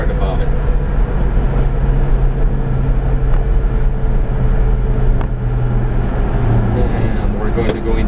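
A 1991 Subaru Sambar 4WD Super Deluxe kei truck driving on a highway, its loud, steady engine and road drone heard from inside the cab while someone talks over it.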